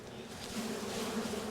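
Honeybees buzz steadily inside a hive box during a nuc split in Jacksonville, Florida, a dense, continuous low hum that swells slightly, close and alone.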